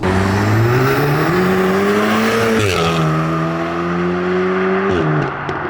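A tuned VW Golf R Mk7.5 running a DK400 package of about 414 bhp accelerates hard, its engine note climbing strongly and then dropping at two quick gear changes before pulling up again. The sound is loud and close, with no talking.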